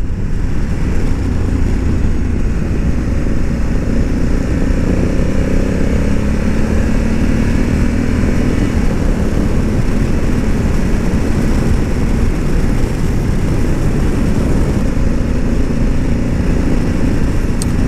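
A Honda Africa Twin 1100 motorcycle engine drones steadily while riding a winding road, loud and close with constant wind rush. The pitch rises and falls slightly as the revs shift.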